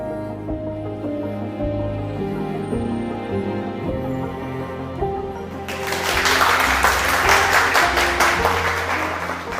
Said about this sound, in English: give us a warm welcome and applause for Dr. Suwawute.